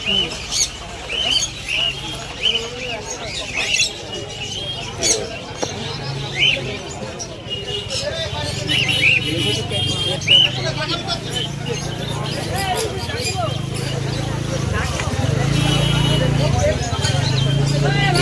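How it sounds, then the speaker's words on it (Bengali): Pigeons at a busy outdoor pigeon market, including a female racer pigeon, with scattered chirps and coos heard over crowd chatter and people talking nearby, while a low rumble of background traffic builds toward the end. "এটা হচ্ছে একটা মাপচি কালারের রেসার দেখে নিন মাদি পায়রা"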